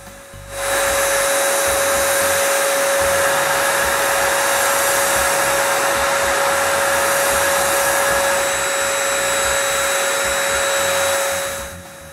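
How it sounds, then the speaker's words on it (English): A spray gun lays the first coat of finish on wooden drawer-organizer trays, a steady, loud, close hiss with a thin whine that runs unbroken for about eleven seconds, then cuts off, with no talk. "Now I can spray the first coat of finish."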